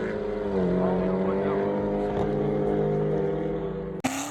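A loud engine drones steadily and shifts pitch during racing, likely a twin-turbo LSX car heard close and continuous, ending in a sharp thump; no voices are heard.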